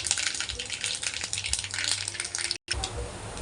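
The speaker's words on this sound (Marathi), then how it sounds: "राई ही चांगल्या प्रकारे तडकून द्यायची आहे आपल्याला" Mustard seeds splutter in hot oil being tempered for Sindhi kadhi, a dense, loud crackling sizzle full of rapid pops close by, broken by one brief silent gap, with no talking.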